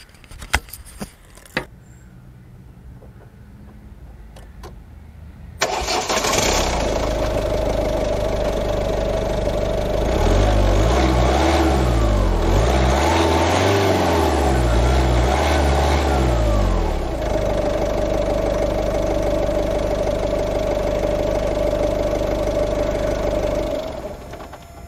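A Ford Focus mk2 1.6 TDCi 90 bhp diesel cranks and fires after a few quiet clicks, then runs loud and close with rising and falling revs as it pulls away and drives.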